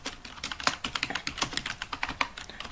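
Rapid, uneven keystrokes on a computer keyboard while a document is composed, clicking close and clear in quick bursts with no voice over them.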